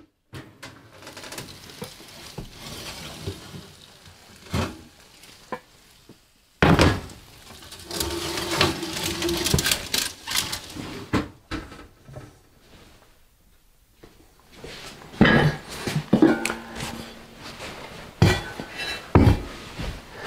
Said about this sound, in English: We have to take the lid off the pot and brown it.